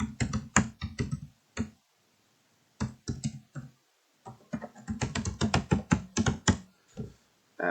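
A computer keyboard is typed on up close, in brisk clusters of clicking keystrokes broken by short pauses, with no talking.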